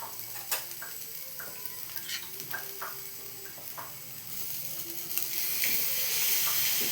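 Tomatoes stirred and fried in a pan, with soft scraping stir strokes and light sizzling that grows denser and louder toward the end; no talking.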